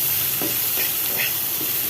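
Steady, close sizzling of chicken frying in a pan, with soft scraping strokes as it is stirred.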